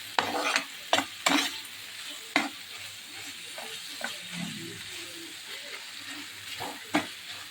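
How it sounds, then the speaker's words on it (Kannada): Ginger garlic paste roasts in hot oil for chicken pepper dry, a low steady sizzle punctuated by several sharp spatula scrapes and knocks against the pan, close and moderately loud. "ಶುಂಠಿ ಬೆಳ್ಳುಳ್ಳಿ ಪೇಸ್ಟು ಹಾಕಿ ಚೆನ್ನಾಗಿ ಫ್ರೈ ಮಾಡ್ತಾಯಿದ್ದೀನಿ"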